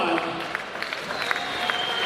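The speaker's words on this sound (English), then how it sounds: "Please give them one more round of applause." Applause rises from a homecoming crowd at a women's college basketball game between Saint Martin's and Alaska. The brief clapping is mixed with crowd noise and voices in a lively gym.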